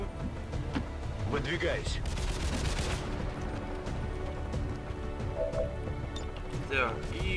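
XCOM 2 gunfire rings out as bursts and sharp reports over a dense, continuous game soundscape, with someone talking over it.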